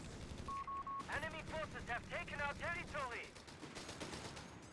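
Light machine gun fire from Beretta Model 30s in the Company of Heroes 3 strategy game, with a beeping tone and several rapid bursts of automatic shots under a steady backdrop of game battle noise and commentary voice.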